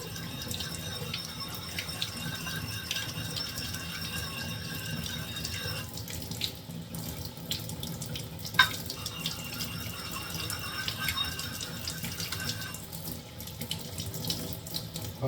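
Warm water runs steadily from a tap while a Japanese Mikawa nagura stone is sealed, a constant close hiss and splash with a few faint clicks and knocks.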